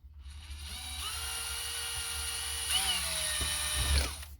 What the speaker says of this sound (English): So the plastic drills real fast.